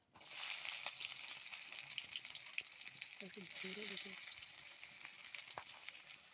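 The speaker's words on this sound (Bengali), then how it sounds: "চিনি গলে গেছে এবার আমি পেঁয়াজ কুচিগুলো দিয়ে দেবো" Chopped onions frying in melted sugar and oil, a steady hiss and crackle of sizzling throughout with occasional stirring clicks and a faint brief voice-like sound in the middle.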